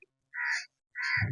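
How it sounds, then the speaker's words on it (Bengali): Two loud, close crow caws in a Satkhira village, each a harsh call of about a third of a second separated by a short pause, with no one speaking. "এবং পাখির ডাক নিশ্চয় আপনারা শুনতে পাচ্ছেন"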